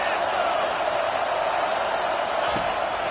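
Loud stadium crowd roaring throughout a football game as fans try to help the defense late in a close contest, a dense sustained wash of cheering with a commentator speaking over it.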